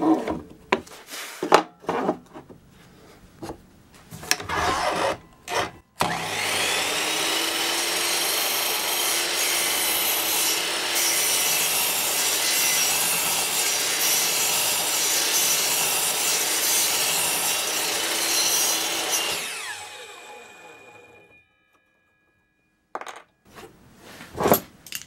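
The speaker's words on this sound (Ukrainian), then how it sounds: "Зараз я продемонструю, як я то запилюю." A hand saw cuts through wood in a joinery workshop with steady, continuous rasping strokes for about fourteen seconds, close and clear. Scattered knocks and clamp handling come before it, and a few taps follow.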